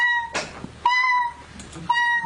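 A kitten meows three times, short bright tonal cries spaced about a second apart, close and clear, with no talk over them.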